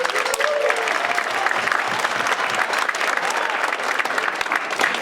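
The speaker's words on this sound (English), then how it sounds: "Round of applause." A crowd at a middle school winter band concert applauds loudly, a thick, steady wall of clapping with a faint murmur of voices underneath, filling the room for several seconds.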